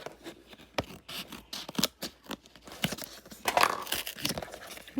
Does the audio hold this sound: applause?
no